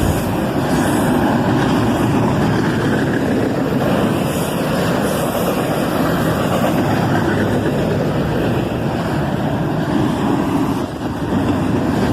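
A CSX intermodal freight train led by an ET44AH locomotive, with a second distributed power unit, rumbles past in a loud, steady roar that holds for the whole stretch, broad and continuous with no break.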